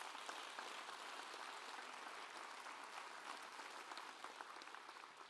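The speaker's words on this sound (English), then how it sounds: "Give her a round of applause." A crowd at a schools address applauds a teacher, a steady, dense patter of many hands that sounds distant and faint throughout.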